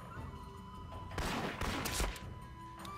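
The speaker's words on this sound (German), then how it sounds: "Ich hab den im Arsch geschossen." Gunfire from Medal of Honor Rising Sun, a World War II shooter video game: a quick burst of several sharp cracking shots in the middle, fairly faint, over a steady game background hum.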